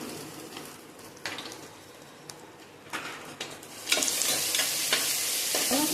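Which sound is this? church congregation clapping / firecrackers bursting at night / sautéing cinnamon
sautéing cinnamon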